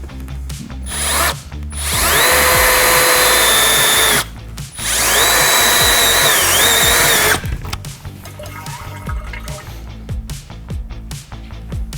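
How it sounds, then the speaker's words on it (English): A power drill whines at high speed in two long bursts, revving up and down, drilling a hole in the bottom of a Ram 2500 Cummins diesel's transmission pan to drain the ATF, followed by quieter clanking and shop noise. "we're gonna go ahead and drill a hole in the bottom so all the ATF comes out"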